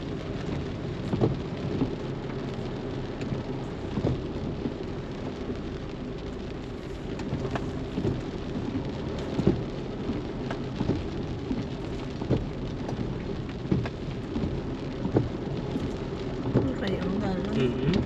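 Heavy tropical rain pours steadily in Barangay Vista Alegre, a dense continuous roar with rumbling thunder beneath it and occasional sharp drops, while voices speak briefly over the downpour.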